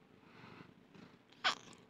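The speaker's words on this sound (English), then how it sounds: "If you'll just do the meow, I'll let you go, man." A grumpy cat gives a single short, faint meow near the end, after quiet rustling and soft purring.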